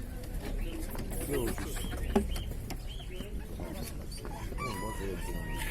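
Roosters crow and hens cluck amid a busy bird-filled poultry fair in Ovidiopol, Odesa region, with people talking in the background throughout.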